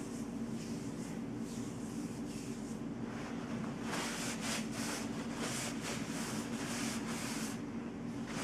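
A cloth wiping eyeshadow off a kitchen table, making steady soft rubbing strokes that grow into rhythmic swishes over a constant low hum.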